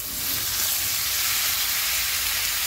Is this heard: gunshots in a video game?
no